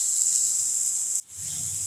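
Ingredients for mutton paya sauté in a hot pan, giving a steady, bright sizzling hiss that dips for a moment midway and then carries on.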